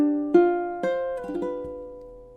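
Ukulele strumming a short chord motif for measures 15 and 16 of a Christmas tune, four distinct strums in steady time, each ringing and decaying, played close and alone.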